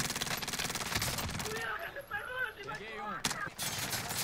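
Rapid automatic fire in Call of Duty Warzone rattles for over a second, then gives way to voices before a final sharp shot, moderately loud and close.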